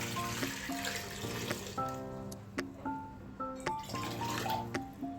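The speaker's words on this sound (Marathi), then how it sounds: "आता आपल्याला ह्यामध्ये थोडंसं पाणी घालायचं आहे" Water poured into a metal pressure cooker holding potatoes close by, splashing and trickling with ringing metallic tones and a few louder splashes.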